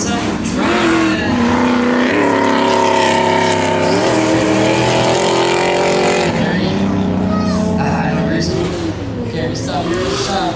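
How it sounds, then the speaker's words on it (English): A drift car engine runs at full power during aggressive drifting at King of Drift Asia 2015, loud sustained revs with clear pitch sweeps, under continuous commentary. "He pushes it all the way. Very, very nice. Aggressive drifting."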